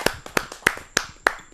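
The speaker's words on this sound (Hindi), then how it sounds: "जोरदार तालियों से" At a Hindi poetry gathering, the audience welcomes a poet with sharp, close claps in an even rhythm, five distinct beats spaced about a third of a second apart.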